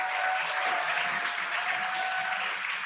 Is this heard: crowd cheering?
yes